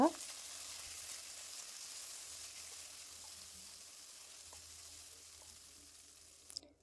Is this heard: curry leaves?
yes